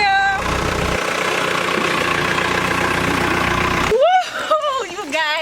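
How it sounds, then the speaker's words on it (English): A tractor engine idles in St. Thomas, Jamaica, with a steady, even rumble for about four seconds before it stops and voices take over. "I drove a tractor for the first time"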